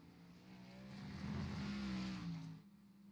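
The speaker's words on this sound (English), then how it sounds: "We got Novella coming through the bus stop and Brandon Grand as well" Race cars in an online racing game at Watkins Glen rumble past on track, a steady engine drone that swells to a louder pass around the middle and then fades, with no talking.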